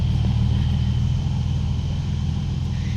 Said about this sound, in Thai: รถไถก็มาแล้ว